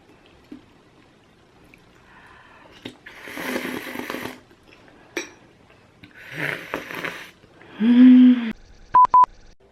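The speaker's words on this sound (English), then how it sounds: "Oh, my phone's in the background." A mobile phone rings in the background of a home kitchen where sweetcorn and chilli soup is being made: a short tonal ring and a few sharp beeps near the end follow scattered clattering and rustling.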